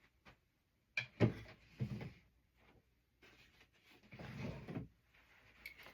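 A wallpaper drawer in a craft studio is opened and closed, giving a few short wooden slides and knocks with soft rustling of paper between them, fairly close and moderately loud.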